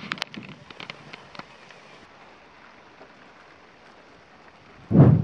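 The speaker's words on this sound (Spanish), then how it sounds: "Se ha puesto a llover un montón y no puedo terminar mi muro." Heavy rain falls outdoors at a site where a cabin wall is being restored, a steady soft hiss with a few sharp drop hits early on, then a loud close rumbling burst near the end.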